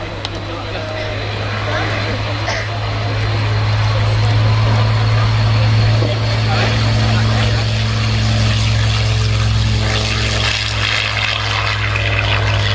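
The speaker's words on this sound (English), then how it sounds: "This courtesy of the Airbus group, the Messerschmitt Bf109G4." A Messerschmitt Bf109G-4 WWII Luftwaffe fighter runs its piston engine with a deep, steady propeller drone that swells as it nears and holds loud throughout, with a commentator talking over it.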